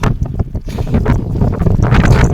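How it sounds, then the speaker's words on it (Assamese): Strong wind roars continuously across sand dunes in Ladakh, buffeting the microphone with loud, gusty rumble and blowing sand, with no voices. "আপোনালোকে দেখিব পাৰিছে কিমান জোৰত বতাহ বৈছে"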